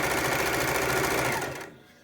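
A sewing machine runs a straight hem on a project bag with black thread, a loud, close, steady whir for about a second and a half that then winds down and stops.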